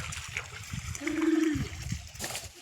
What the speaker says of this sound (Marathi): आता ह्या गाई पाण्यात आंघोळ करतात पोहतात